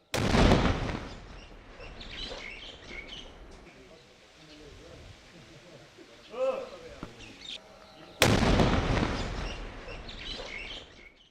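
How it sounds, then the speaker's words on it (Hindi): A bomb disposal squad sets off a controlled detonation of an IED, and two heavy, booming blasts are heard several seconds apart. Birds chirp faintly in the quieter stretch between them. "देखिए कितना जबरदस्त धमाका हुआ था जब बम निरोधक दस्ते की तरफ से इस आईडी को डिफ्यूज किया जा रहा था"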